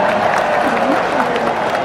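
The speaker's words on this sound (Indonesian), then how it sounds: "Tepuk tangannya dahsyat penuh rasa cinta" Brief, steady crowd applause greets Prabowo, the Gerindra party chairman, at a political party gathering. The clapping stays moderately loud under a speaking voice.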